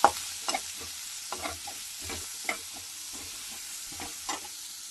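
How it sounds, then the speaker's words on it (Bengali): Chopped garlic and onion frying in a pan, with a soft background sizzle broken by repeated sharp scrapes and taps as a spatula stirs them, close and fairly quiet. "চার পাঁচটা রসুন দিয়েছি তিনটে পেঁয়াজ দিয়েছি এটা একটু ভেজে নিয়ে"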